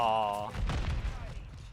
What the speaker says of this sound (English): See, he pumps that shotgun so fast